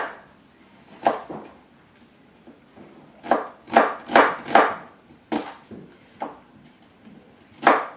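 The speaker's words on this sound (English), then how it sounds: "I have 2 small onions I'm going to thinly slice" Two small onions being thinly sliced on a cutting board, a series of distinct knife chops with irregular pauses between them, close and without talk.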